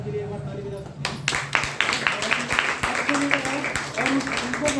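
An audience at a group meeting in Bhagwanpur bursts into steady applause for Ashok sir, a rapid patter of many hands that continues throughout.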